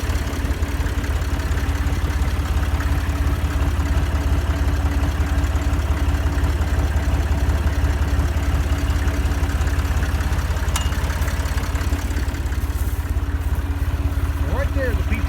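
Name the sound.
tractor engine running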